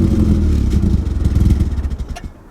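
A Mazda RX7 rotary engine starting up and trying to idle, giving a loud, close, pulsing low rumble that throbs unevenly and sags toward the end.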